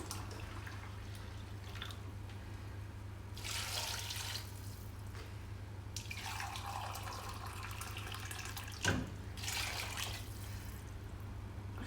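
Water pours into a pot while making root soup, coming in bursts of splashing and running flow separated by quieter gaps, over a steady low kitchen hum, with one sharp knock near the end.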